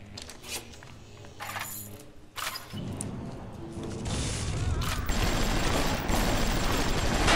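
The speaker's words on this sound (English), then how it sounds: "Who is shooting me?" Gunfire in the video game Bioshock: rapid bursts of shots that build into dense, continuous automatic fire, loud and close, with no talking over it.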